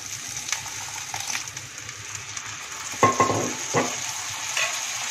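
Cluster beans sizzle in a hot pan while a spoon stirs and scrapes through them, with a few sharper clinks near the middle; steady frying hiss throughout, close and moderately loud, no talk.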